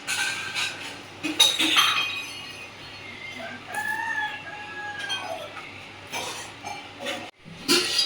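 Eggs cracked into a bowl for vanilla cake batter, with sharp clinks against the bowl's rim and a few clear taps. Background chickens cluck and crow, fairly quietly.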